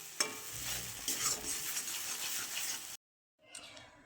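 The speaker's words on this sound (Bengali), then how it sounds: "আজকে অল্প হয়ে যায় বলে লাউয়ের খোসাটা আর ফেললাম না, ভাজা করি।" Bottle gourd peel frying in a pan, with soft sizzling and repeated scraping stirs of a spatula, close but quiet, cutting out briefly before resuming.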